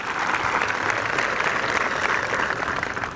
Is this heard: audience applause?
yes